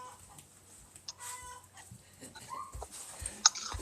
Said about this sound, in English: I don't know what they're clucking at.